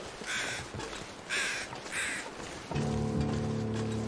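A crow caws in the video game The Long Dark, three harsh calls evenly spaced and fairly close. A steady humming drone and soft background noise then take over.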